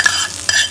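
A hot tempering of oil and spices is poured onto mashed potatoes, giving a short loud burst of sizzling hiss with two sharp crackling onsets.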